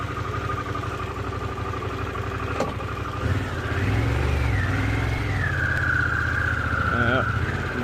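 Motorcycle engine idling and then revving, picked up by Ray-Ban Meta glasses inside a rider's helmet; a steady close low rumble with rising revs midway, wind and helmet noise over it.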